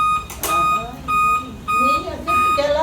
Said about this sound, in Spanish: ¿qué alarma trae?